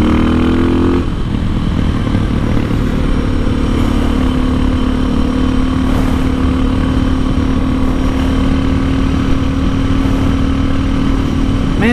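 A motorcycle with a 3x3 performance mod, its engine droning loud and close throughout a road ride, with steady throttle and wind rush.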